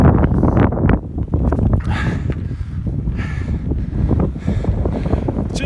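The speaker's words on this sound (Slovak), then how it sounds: "Začalo fúkať dosť studený vietor." Cold wind gusting on a mountain hike above the clouds, buffeting the microphone in loud, continuous rumbling blasts that swell and dip throughout, with no talking.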